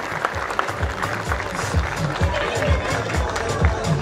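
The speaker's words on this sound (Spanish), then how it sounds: "¡Fuerte el aplauso para estos queridos amigos!" Crowd applause at an award ceremony for the Rally Formoseño in Herradura, rhythmic clapping with a low thumping pulse under it and voices talking over the crowd.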